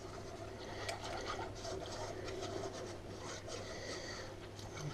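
A wire whisk stirs cold béchamel sauce in a bowl, giving a steady close scraping and rubbing rasp over a low hum, with no talk.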